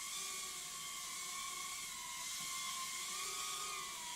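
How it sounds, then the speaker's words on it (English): A mini quadcopter drone hovers and flies nearby, giving off a steady high-pitched whirring buzz that drifts slightly in pitch, continuous and fairly faint with no talking. "it will do all the normal stuff you'd expect a quadcopter to do"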